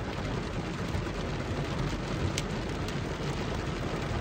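Heavy rain drums steadily on a parked vehicle during a supercell storm in Kansas, a dense loud roar with an occasional sharper hailstone strike standing out.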